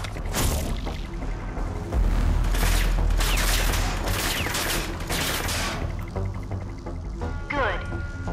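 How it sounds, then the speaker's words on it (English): Simulated enemy gunfire in the video game Rage 2, bursts of rapid shots and impacts crackling through a training sequence, loud and close, with a voice speaking over parts of it. "Use the barrier accession to protect yourself against simulated enemy fire."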